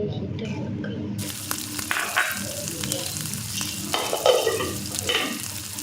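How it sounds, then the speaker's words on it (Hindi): Masala sizzles and fries in a pan on a gas stove, a steady crackling hiss with stirring scrapes and clinks throughout, fairly close, with some faint kitchen water sounds. "मसाला रख देती हूँ गैस पे"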